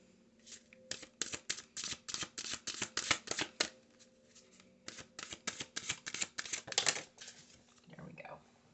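A deck of tarot cards is riffled in quick, close bursts, with two runs of crisp flutters separated by a short pause. Soft handling noise follows at the end.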